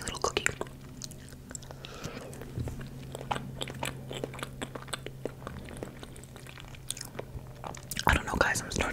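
Tiny cookie being bitten and chewed up close, soft crunchy crackles and mouth sounds in a quiet room, with a steady low hum and a sharper burst of crunching near the end.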